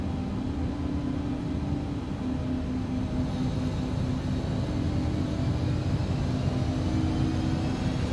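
Embraer ERJ145 jet engines at takeoff power in the X-Plane 11 flight simulator, a steady loud droning roar with a constant hum, unbroken and with no talk.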